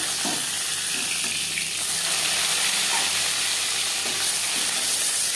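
Fish fries in hot oil for a cumin and green chili fish curry, a steady, close crackling sizzle that continues unbroken throughout.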